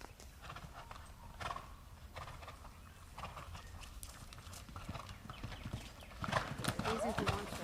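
A horse cantering toward a show jump, its hoofbeats clip-clopping in a steady rhythm with a whinny and louder hoof strikes near the end, under ongoing talk.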